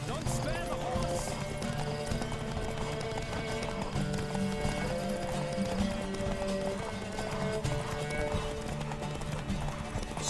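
Rapid clip-clop of horse hooves galloping steadily throughout in The Witcher 3: Wild Hunt, with a neigh and loud background music layered over the rhythm.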